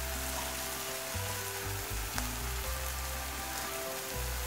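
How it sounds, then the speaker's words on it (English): Steady, dense crackling sizzle of papad frying in hot oil, continuous and close, with a low hum underneath. "So as you can see, it is frying like this way."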